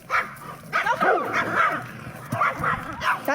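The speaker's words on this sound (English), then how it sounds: "we've got a black German Shepherd with two little dogs that run up at it" Two small white dogs yap and bark insistently at a leashed black German Shepherd or Beauceron, with a steady stream of high, overlapping yips and whimpers close by.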